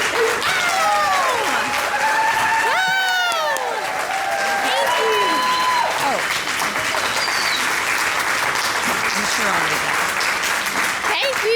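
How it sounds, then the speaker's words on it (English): A town hall audience in Jonesborough stands and applauds a Tennessee governor candidate, sustained loud clapping filling the room with cheers and whoops rising over it throughout. "if you all would please stand and give a big round of applause and welcome"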